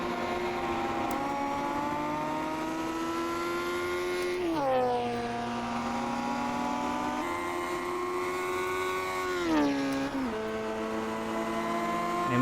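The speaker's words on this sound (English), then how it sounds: "I can hear my engine doubled." Engine of a historic Formula 2 racing car in a sim race at Hockenheim, heard doubled as two overlapping engine tones that rise steadily and dip at gear changes and corners, loud and continuous with no talk.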